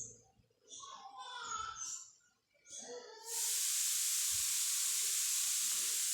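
Meat curry sizzles loudly in a pan after ghee and meat masala go in, a steady bright hiss that takes over midway and holds to the end, after a stretch of talk from a woman cooking.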